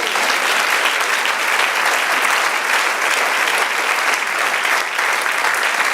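A church congregation applauds steadily, a dense, loud and continuous wash of clapping that runs without pause from start to finish.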